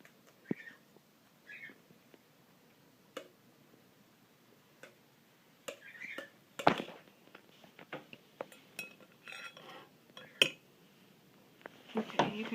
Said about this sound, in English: once the cranberries are cooked, we're going to dump them into a bowl and press them through a strainer